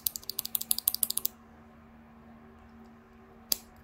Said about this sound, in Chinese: 然后这样按的话是会有比较明显的弹簧音。